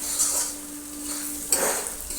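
Frying in a pan for a tarka dal, a soft steady sizzle with a couple of brief utensil scrapes against the pan, close by and without speech.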